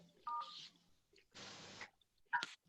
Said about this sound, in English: Enter your participant ID followed by pound.